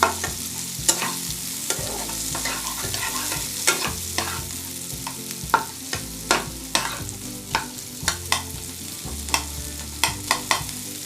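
Garlic and chopped onion sizzle in a frying pan for a garlic mushroom dish while a utensil scrapes and taps the pan in a repeated stirring rhythm, close and without talk.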